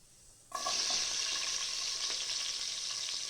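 Chopped onion hits hot oil with fenugreek seeds already popping in it, and a loud, steady sizzle bursts in after a quieter start and then holds evenly, close to the pan, with no voices.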